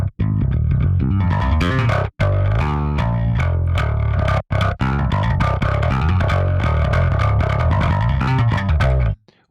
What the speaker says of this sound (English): Went for the B distortion. It's a very clanky distortion as opposed to this very fuzzy ones, the A and C.